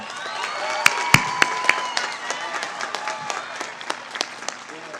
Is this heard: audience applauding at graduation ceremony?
yes